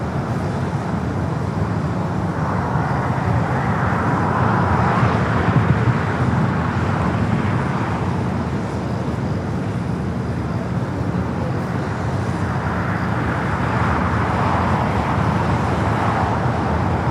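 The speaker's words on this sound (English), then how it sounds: "the Latam Dreamliner heading to Santiago, now rolling down" A LATAM Boeing 787 Dreamliner rolls for takeoff at Los Angeles International Airport, a steady, distant broadband jet roar that holds evenly through the clip with no voices.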